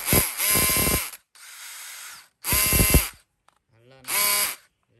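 DeWalt DCD709 cordless drill running in short bursts with its clutch ratcheting, three loud whirring spells separated by pauses and a quieter buzzing stretch, with someone speaking briefly in between.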